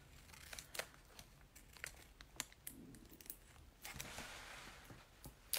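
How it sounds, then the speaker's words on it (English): A strip of tape is cut in half while making a paper rocket, giving soft crinkling and a few sharp snips and tearing rustles, close and quiet with no talk. "I'm going to take my piece of tape and I'm going to cut it in half"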